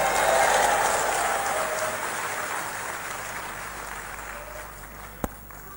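A church audience claps and cheers at a motivational sermon. The dense applause is loudest at the start and slowly fades, with one sharp clap near the end.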